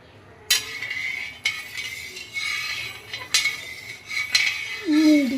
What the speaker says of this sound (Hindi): इसमें अब हम शक्कर डाल के घोल लेते हैं